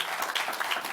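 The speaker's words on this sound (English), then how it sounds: "So one more round of applause as we dismiss both of these gentlemen" Audience applause at a summit session as two guest speakers are dismissed, a steady wash of clapping heard alone and moderately loud for a brief moment.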